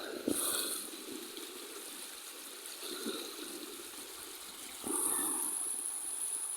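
A river flows with a continuous soft rushing and trickling murmur, fairly quiet and steady, with a few brief brighter splashes along the way.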